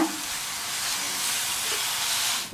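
Jaggery kozhukattai filling being stirred in a pan, a steady close sizzle and hiss with faint scraping running throughout the short stretch, no voices present.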